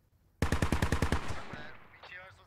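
Rapid automatic fire from a BTR armoured vehicle in the tactical shooter game Squad, a loud burst of about nine evenly spaced shots that fades into a reverberant tail with faint distant activity afterward.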